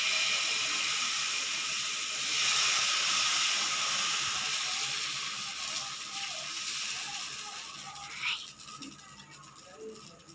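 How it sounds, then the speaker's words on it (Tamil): Ragi dosa batter cooks on a hot pan with a soft, steady hiss and faint crackle that lasts throughout, a quiet, even sizzle with a small clink near the end. "இப்போ வாங்க நம்ம தோசை சுடலாம்"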